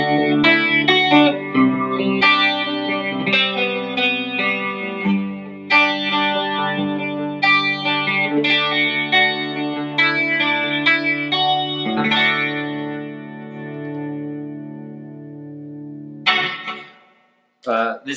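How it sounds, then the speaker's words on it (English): A clean electric guitar played through a Strymon Mobius chorus pedal, with shimmering, wavering chords and arpeggiated notes ringing out in a sustained melodic phrase before fading near the end. "This chorus I found also works really well for that."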